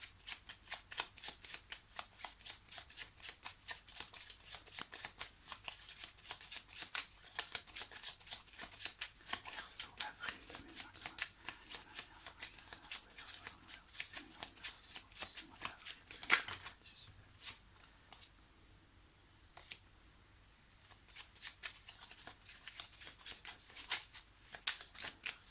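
A deck of tarot cards is shuffled over and over in quick, papery riffles, with a short pause partway through, then cut, all close and soft.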